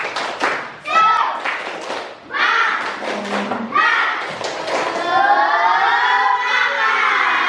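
A classroom class performs a rhythmic spirit clap for a presenting group, sharp patterned hand claps mixed with loud group chanting and shouting voices, close and energetic throughout.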